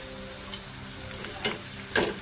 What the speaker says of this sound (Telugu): ఇగోండి ఇలా వేయించుకోవాలండి అన్నీ కూడా